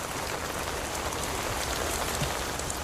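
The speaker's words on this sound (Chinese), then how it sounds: "如此大雨" Heavy rain pours steadily and loudly at night in an old military camp, a dense continuous hiss of drops with no voices.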